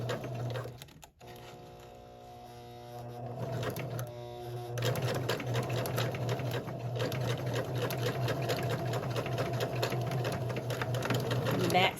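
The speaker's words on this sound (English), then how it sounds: "And then I'm going to sew it." Kenmore 385 sewing machine stitching through elastic, starting with a short whir and pause, then running into a long, steady, rapid mechanical chatter close by.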